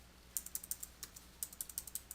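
Soft clicks of fingers typing a phone number on a computer keyboard, two quick bursts of about six to eight keystrokes each with a short pause between, faint and close against a quiet room hum.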